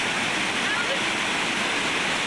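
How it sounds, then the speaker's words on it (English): An overflowing reservoir spills into a waterfall, giving a loud, continuous broadband rush of falling water that stays steady and close throughout. "spectacular waterfall action going on here"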